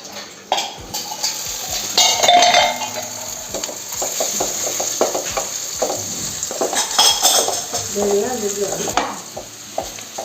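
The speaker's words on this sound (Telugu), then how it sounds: "మసాలా ఉల్లిపాయ వేగిపోయింది." Onions with masala sizzling in a hot pan for an egg fry, with a spoon repeatedly scraping and clinking against the metal as the mixture is stirred, close and steady.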